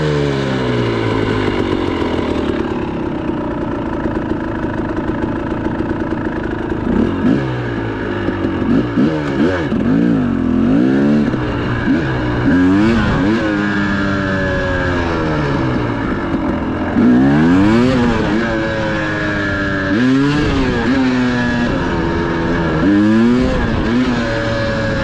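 Motorcycle engine fitted with an XTNG Gen3 Pro metering rod carburetor, running slightly lean on a ride, drones steadily and loud throughout with repeated rising and falling revs and gear changes.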